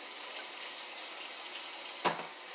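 Water from a kitchen sink hose attachment runs steadily as a steady wash while a kitchen sink is rinsed, with a brief louder splash near the end.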